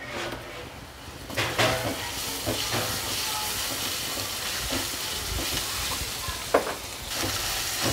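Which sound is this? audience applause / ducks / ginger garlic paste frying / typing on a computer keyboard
ginger garlic paste frying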